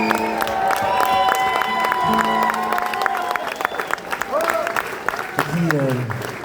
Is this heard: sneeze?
no